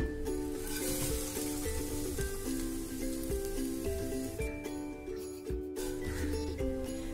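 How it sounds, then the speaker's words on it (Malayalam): Flattened rice (aval) fries in ghee in a frying pan, giving a steady soft sizzle and crackle that runs under background music throughout. "എന്നിട്ട് നമുക്ക് ഈ അവലിനെ ജസ്റ്റ് ഒന്ന് ഫ്രൈ ചെയ്തെടുക്കണം"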